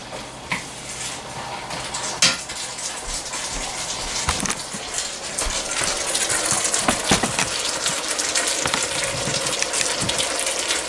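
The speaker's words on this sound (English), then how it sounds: "give this a stir" Vegetables in sauce are stirred in a hot pan, with scraping and clinking of utensil against pan over a continuous sizzling, bubbling hiss that grows slightly louder.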